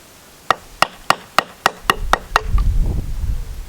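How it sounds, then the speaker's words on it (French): A mortise chisel is struck repeatedly to widen a drilled mortise in wood, giving about eight sharp, evenly spaced knocks. These are followed by lower rumbling scraping as the waste is worked loose. "Donc on va utiliser le bédane pour"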